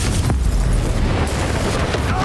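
Spell blasts boom repeatedly in Hogwarts Legacy, as cast on a Nintendo Switch, with dense, loud explosive bursts filling the whole stretch while a voice shouts spell incantations over the top.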